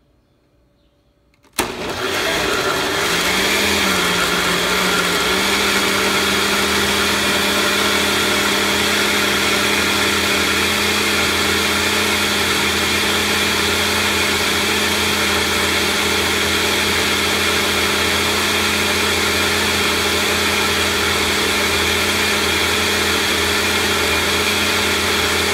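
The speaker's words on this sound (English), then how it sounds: "I'm gonna start blender on high" After a quiet moment, a blender motor whirs up and runs steadily on high, blending a green smoothie, a loud continuous drone that holds unchanged to the end.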